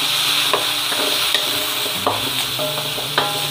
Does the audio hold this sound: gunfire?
no